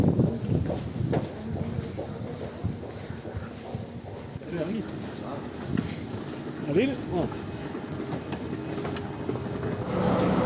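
A train rumbles and clatters at a Melbourne railway station, with a steady rolling din, some wind buffeting and people talking over it.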